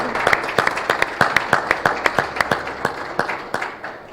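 A church congregation applauding at a Sunday service, the claps landing in a fairly regular rhythm as clear, close, repeated strokes over a low murmur of crowd noise, with no distinct speech.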